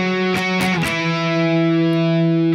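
Heavily distorted electric guitar plays a quick riff of octave notes on the fifth string, settling into a sustained, buzzing chord that rings out alone.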